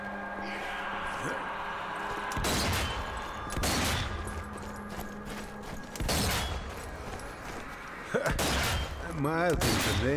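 Mounted turret firing in the zombie shooter Zombie Army 4: Dead War, with several heavy bursts of gunfire separated by quieter stretches and a rising whine near the end, while people talk over it.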